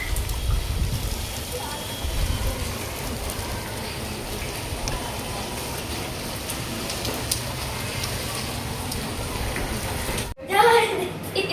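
Heavy rain pours steadily in Rajkot, a dense, constant hiss and patter that runs loud and unbroken for several seconds before a sudden cut to a brief, different bit of sound at the end.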